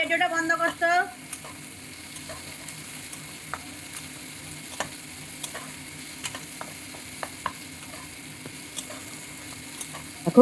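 Chopped tomato and peas sizzling steadily in a pan, with frequent sharp clicks and scrapes of a stirring utensil against the metal throughout, and a brief louder clatter at the start.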